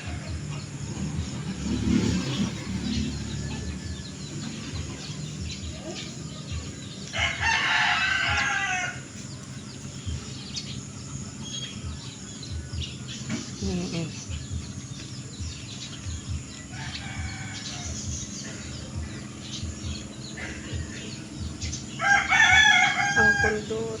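A rooster crows outdoors, with clucking fowl and passing car noise in a steady background. The crowing comes in a few drawn-out bursts at moderate distance.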